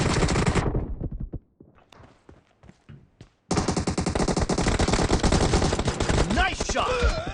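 Rapid pistol gunfire in the BGMI team deathmatch video game, loud bursts of shots firing repeatedly, breaking off briefly into scattered pops before resuming as dense continuous shooting to the end.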